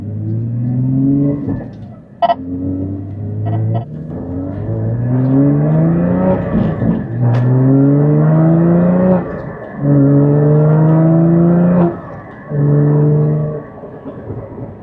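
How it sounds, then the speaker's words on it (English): A 2016 Porsche Cayman GT4 manual engine revs up and drops repeatedly, with low popping burble from the exhaust as the throttle eases off between pulls, loud and close. "A little bit of burble on the let-off."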